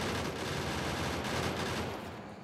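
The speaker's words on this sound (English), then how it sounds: "the guns are doing the trick" Ship-mounted guns fire in dense continuous volleys in a Factorio Space Exploration game, a steady loud rattle of overlapping shots with no pauses, tapering slightly at the end.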